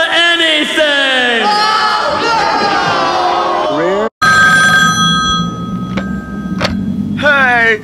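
A telephone rings with a bell-like repeating tone, loud and close, mixed with excited overlapping voices, whoops and sliding musical tones, followed by brief cut breaks and more rings.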